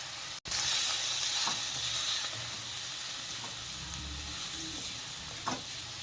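Red chili powder and ground peanuts sizzle in a pan, a steady close hiss with a brief gap near the start and a few soft stirring scrapes, loud and even throughout, no talk.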